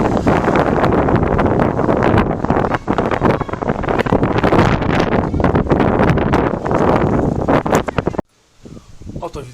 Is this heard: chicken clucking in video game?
no